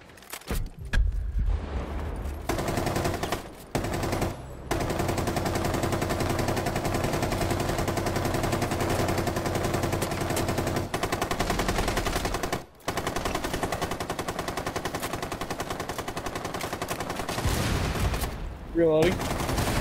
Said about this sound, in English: LMG mounted!